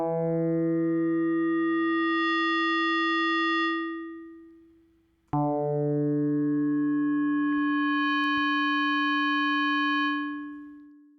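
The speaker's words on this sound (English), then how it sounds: "we're going to hear a harmonic sound that shifts to an inharmonic sound" An FM synthesis tone sustains cleanly, then fades away; a second attack returns and its clean harmonic tone gradually shifts to a more metallic, inharmonic timbre as a modulator fades in, alone and loud.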